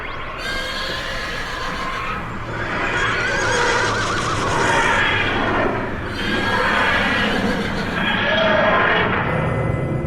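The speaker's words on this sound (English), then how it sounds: "The horses screamed in panic and terror." Horses whinny and neigh in panic as a dramatized audio effect, loud, repeated shrill calls over a continuous rumble of movement and hoof clatter, with no talking.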